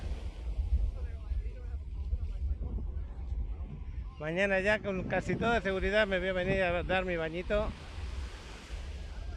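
Ocean surf at the beach in Playa del Carmen makes a constant low wash, mixed with gusty wind rumble on the microphone. Someone speaks Spanish over it partway through.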